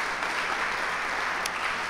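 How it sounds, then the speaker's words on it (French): Audience applause at a press conference for an art exhibition opening at a museum, a steady, dense wash of clapping that fills the whole moment without a break, with no voices on top. "une petite main d'applaudissement pour ces gens"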